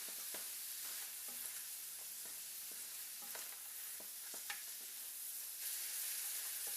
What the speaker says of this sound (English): the sliced onion, and I'm going to let this cook until it gets aromatic